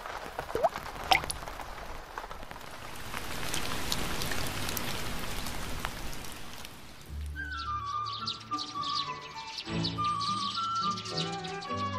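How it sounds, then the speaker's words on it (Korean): Raindrops tapping on a glass window pane make a steady soft patter for about seven seconds, after which a bright melodic tune takes over. "빗방울이 유리창에 떨어지는 소리였구나."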